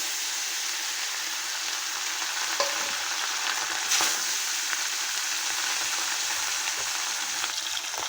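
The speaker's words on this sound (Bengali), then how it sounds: "এখন আমি মাছগুলো ভেজে নেব।" Pieces of rohu fish frying in hot oil in a wok, a continuous close sizzle with bursts of spattering and a couple of sharper crackles, no talking.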